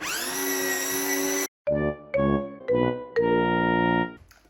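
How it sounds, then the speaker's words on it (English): A handheld electric mixer whisks no-bake cherry cheesecake filling. Its motor whines steadily up close, cuts out briefly, then runs in several short pulses and a longer final burst. "And then we can get the handheld mixer on it."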